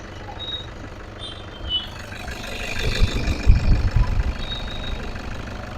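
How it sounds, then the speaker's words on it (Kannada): A silver 2011 Toyota Fortuner 4x4 diesel engine idles with a steady low rumble throughout, swelling briefly louder in the middle before settling back; no one speaks. "ಫ್ರೆಂಡ್ಸ್ ನೋಡಿದ್ದೀರಾ ಸೌಂಡ್ ಇಂಜಿನ್ದು ಎಷ್ಟು ಸ್ಮೂತ್ ಆಗಿದೆ ಅಂತ"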